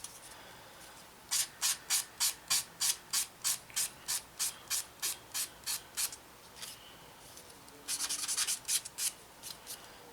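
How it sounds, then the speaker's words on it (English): Rhythmic back-and-forth sanding strokes on a small hard plastic model aircraft part, about twenty quick rasping passes with a brief faster flurry near the end, close and quiet. "And that is kind of it for the sanding process"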